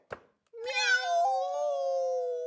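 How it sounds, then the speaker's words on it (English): A single long, drawn-out cat meow, loud and close, that starts right after a brief click and holds steady for about two seconds. "How do those cats Socrates and Nostradamus communicate? I mean, does meow mean more than one thing?"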